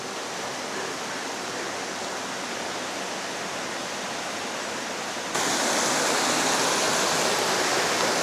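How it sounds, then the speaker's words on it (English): A waterfall beside a hut shelter on the Mt Arthur circuit in Kahurangi National Park roars as a steady, broad rush of falling water with no talk, growing noticeably louder partway through as it comes closer. "There's a cracking waterfall here right by the shelter."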